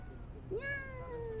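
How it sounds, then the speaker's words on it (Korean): A plump stray cat at a small rural railway station gives one drawn-out rising meow, close and clear over a low outdoor background hum. "고양이가 귀여워 더 놀아주고 싶었는데요"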